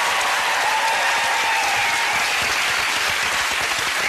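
Studio audience applause on an All Star Family Fortunes game show, a dense, steady wash of many hands clapping that holds loud and unbroken throughout.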